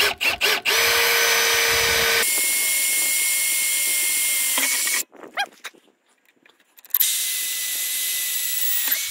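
A power drill bores a hole during a hydraulic selector valve install, loud steady whirring in long bursts that stop and restart, with a short quiet gap of clunks in between; no talk.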